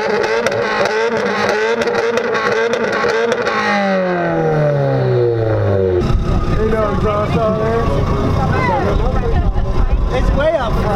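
Brandon's 2017 Subaru WRX exhaust revs hard at a loudness contest, rising then falling in pitch before a loud, rough, close roar, with crowd chatter underneath.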